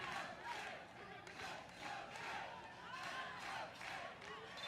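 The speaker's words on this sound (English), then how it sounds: "Crowd trying to get into it." A stadium crowd at a women's college soccer match between Arkansas and Mississippi State cheers and yells in rising, pulsing waves, a broad roar of many voices heard at a distance.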